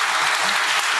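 A short burst of dense audience applause at a youth book prize meeting with authors, steady and fairly loud clapping with no gaps.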